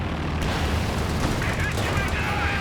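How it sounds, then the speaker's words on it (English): Booming gunfire from an SU-85 tank firing on the move in the Company of Heroes 2 battle, heavy and dense against a constant din of combat, with talk over the top. "SU-85 missing, firing on the move here."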